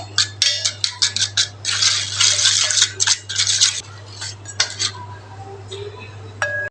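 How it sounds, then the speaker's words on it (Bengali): A spoon stirs batter mixed with water in a bowl for a jackfruit curry recipe, giving quick, irregular clinks and scraping bursts that fade toward the end, over a low steady hum. "এই ডোটা বানিয়ে নিব ভালো করে মিশিয়ে একটা চামচের মাধ্যমে"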